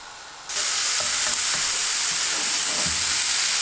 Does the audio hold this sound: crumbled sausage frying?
yes